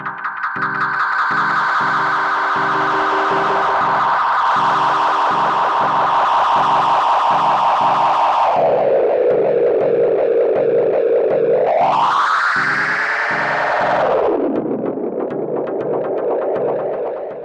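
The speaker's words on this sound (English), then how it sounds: "at the bottom of the echo display is a filter, where you can shape the delayed sound to create even more resonant echoes" Ableton Live 10's Echo delay effect runs a distorted, pulsing synth line through repeating echoes, with a resonant filter that sweeps down, then up and back down, loud and continuous with no voice.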